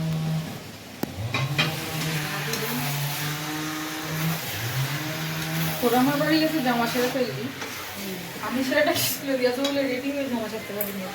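An electric saw cutting garden trees nearby rises and falls in pitch in a steady, continuous whine, with voices talking throughout.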